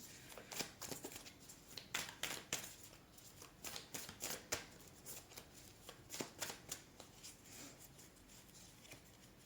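Oracle cards are shuffled by hand in quiet, repeated bursts of papery riffling and soft slaps, close and fairly faint, with no talking.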